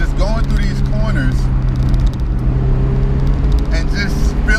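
A 1990 Mazda Miata NA being driven through corners, a steady engine drone and road noise heard from inside the car, with someone talking over it.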